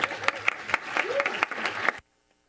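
A town council meeting audience claps for local small business owners called to the podium, with sharp, distinct hand claps from a modest crowd and a brief voice underneath, then a sudden cut to silence.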